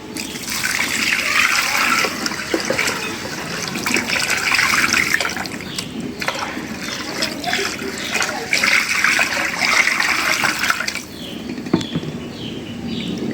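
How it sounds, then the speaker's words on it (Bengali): Water gushes steadily into a cooking pot for khichuri in two long pours, splashing loudly and close, then stops abruptly. "এখন পানি দিয়ে দেবো"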